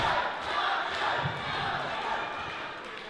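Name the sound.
wrestling crowd cheering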